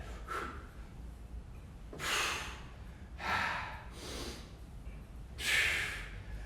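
Forceful breaths from a person doing squats with overhead presses in a home TRX workout: four or five sharp, breathy exhales spaced about a second apart, close and moderately loud over a low room hum, with no speech.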